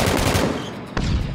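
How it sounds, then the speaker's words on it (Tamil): Suppressed gunfire in the video game PUBG, a quick burst of muffled rapid shots followed by another shot a moment later, loud and close in the game mix. "சப்ரஸ்ட் ஷாட்ஸ் ரைட் சைடுல."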